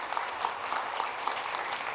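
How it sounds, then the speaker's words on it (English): Brief, steady clapping from a conference audience at a security talk, applauding the crew working behind the scenes, with a dense, even patter of hands throughout. "I would like everyone to give a round of applause because it takes a lot of work for that crew in the back."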